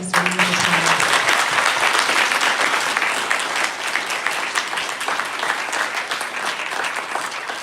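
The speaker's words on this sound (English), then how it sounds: "let's give our lovely guests a round of applause" Loud, sustained applause from an audience greeting guests at an entrepreneurs' event, a dense wash of clapping that holds steady throughout and tapers only slightly at the end.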